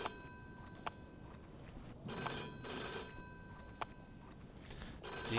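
Telephone ringing in the Mafia II video game, a rapid bell-like trill in repeated bursts with short pauses between them, heard over low background ambience with no speech.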